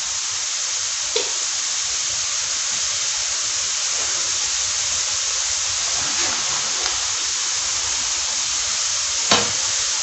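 Cumin seeds sizzling in hot oil with golden-fried onions, a steady even hiss with a few faint clicks and stirring knocks.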